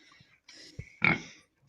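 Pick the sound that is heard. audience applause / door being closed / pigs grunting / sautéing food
pigs grunting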